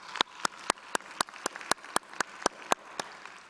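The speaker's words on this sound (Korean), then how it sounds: "우리 격려와 뜨거운 권면의 박수 드리겠습니다." At a Sunday church service in Vancouver, a dozen crisp, evenly spaced claps beat out a steady rhythm, moderately quiet against a hushed room.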